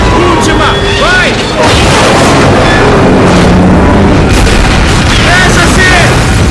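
Explosions thunder through a Call of Duty battle, with heavy booms and bursts layered over a constant loud roar of combat while voices call out over the noise.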